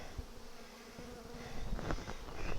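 Honey bees buzzing around an open hive during frame inspection, a dense continuous hum of many insects nearby, with occasional louder passes close by and faint handling knocks, no speech.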